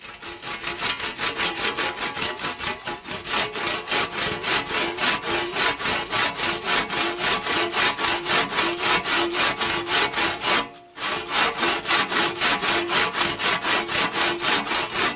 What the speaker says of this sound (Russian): Сейчас отпилим вот эту часть